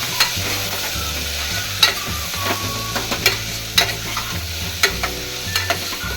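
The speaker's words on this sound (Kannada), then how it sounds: "ಆಲೂಗಡ್ಡೆ ಆ್ಯಡ್ ಮಾಡೋಣ. ಅದನ್ನು ಕೂಡ ಫ್ರೈ ಮಾಡ್ಕೊಳ್ಳಿ." Potatoes frying in oil in a pan for sprouts sambar, with a constant close sizzle and a spoon clinking and scraping the pan in irregular strokes.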